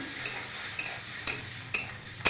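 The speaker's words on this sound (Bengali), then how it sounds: "মশলা দিয়ে এখন একটু কষিয়ে নেব।" Spice paste with green peas sautés in a pan, a soft continuous sizzle with rhythmic spatula scrapes and taps recurring about every half second, close and fairly quiet.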